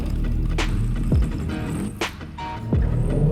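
Tomica diecast toy cars, a Lexus LFA and a McLaren Senna, rolling fast down a drag-racing track: a steady close rolling whir broken by a few sharp clacks and swooping passes, with no talking.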